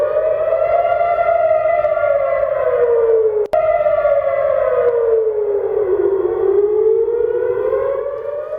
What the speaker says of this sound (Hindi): तेल अवीव में हवाई हमले के बाद सायरन बजे हैं, हवाई हमले के सायरन बजे हैं